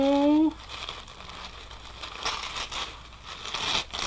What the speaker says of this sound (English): Do you hear the paper?